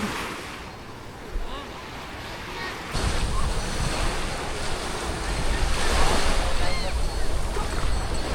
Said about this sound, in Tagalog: ang ganda ng dagat dito sa public beach